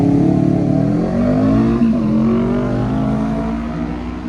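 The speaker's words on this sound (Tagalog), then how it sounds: "Yan ang aming bus." A Madrid city bus on the Castellana runs close by with a loud, steady engine drone whose pitch slides gently up and down, the rumble holding throughout with no voices over it.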